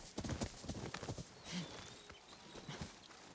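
Horse hooves clip-clop steadily in the video game Ghost of Yōtei, close and moderately loud, with a faint whinny partway through and no talking over them.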